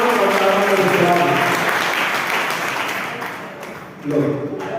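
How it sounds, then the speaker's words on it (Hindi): Sustained applause from an audience fills the air steadily and loudly, then thins briefly before picking up again, with a voice faintly mixed into the clapping. "ताली बजाओ"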